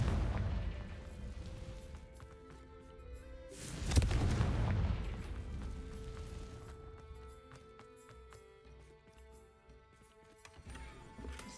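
A Confringo spell goes off in the video game Hogwarts Legacy: one heavy, booming explosion partway through, then a fading rumble under lighter game ambience.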